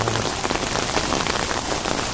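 Heavy pre-dawn downpour during a flood warning in Uijeongbu near the Jungnangcheon stream, a dense, constant hiss of rain hitting surfaces, loud and unbroken throughout.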